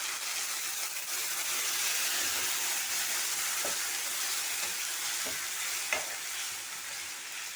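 A cup of water poured into chicken chilli with sauces in a hot pan sets off a loud continuous sizzle and hiss, with occasional utensil scrapes of stirring close by and no speech.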